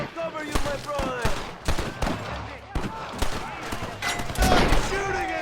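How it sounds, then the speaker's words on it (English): Gunfire from the Red Dead Redemption video game: repeated loud, sharp shots and bursts fire in uneven volleys throughout, close and heavy, mixed with voices talking over the shooting. "Stop shooting at me!"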